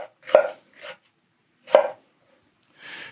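Hatsukokoro Kurokaze kitchen knife chopping an onion on a board, with sharp, distinct knife strikes at uneven intervals and quiet gaps between them.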